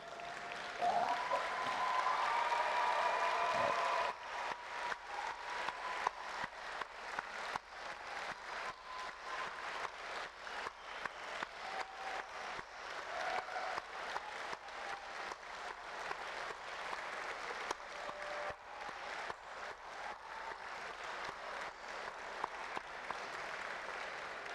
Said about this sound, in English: give them a round of applause by way of a thank you for all they have done.